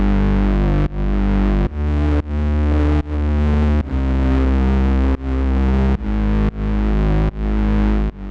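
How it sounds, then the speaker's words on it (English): A distorted lo-fi synth bass patch from the EastWest LO-FI library plays a steady run of loud, sustained notes that re-trigger about once a second, filling the low end with a gritty, chorused tone. "it's a bass full of character that fills up the entire low end"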